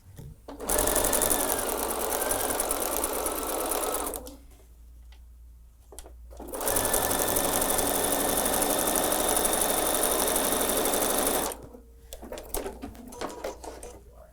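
A sewing machine stitching quilt pieces together runs steadily in two long, close, loud bursts of even whirring, separated by a short pause. A few quiet handling noises follow at the end.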